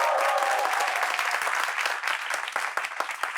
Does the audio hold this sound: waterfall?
no